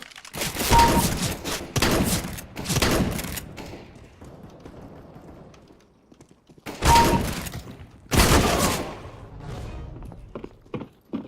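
Shotgun fire in CS:GO bot deathmatch, a few loud close blasts in uneven bursts separated by quiet gaps, with scattered thuds and softer game sounds between them.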